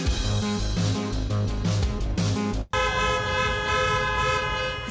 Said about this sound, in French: Des coups de klaxon incessants au beau milieu de la nuit.